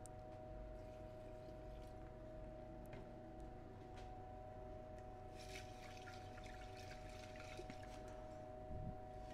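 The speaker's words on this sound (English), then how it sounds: "I'm adding some distilled water to the silver. I'm going to rinse some of the electrolyte off of here." Distilled water is poured into a beaker to rinse electrolyte off silver crystals, a soft faint splashing trickle over a steady low mechanical hum, with brief clinks.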